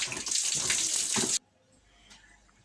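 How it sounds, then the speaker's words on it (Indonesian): Water pours loudly from a hydroponic tub being drained after cleaning while water spinach is grown, a steady splashing rush that cuts off abruptly partway through, leaving faint room noise. "Kalau misalnya udah dibersihin, nanti kalian tiriskan baknya."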